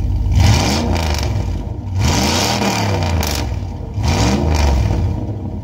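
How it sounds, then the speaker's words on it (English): A truck engine revs up three times in succession, each rise climbing and falling in pitch over a throaty rumble, close and loud. "Let it warm up a minute here, and then we'll give it some revs and hear how it sounds"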